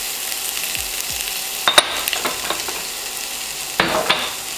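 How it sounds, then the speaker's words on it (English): Sliced onion and green pepper fry in a hot pan for chicken livers, a loud even sizzle with a couple of sharp stirring scrapes partway through, no voices. "I'm adding my onion as well as the green pepper."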